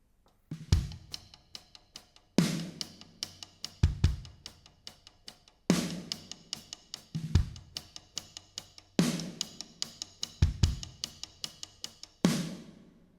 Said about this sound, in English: We're going to go 16th notes on our rims right here.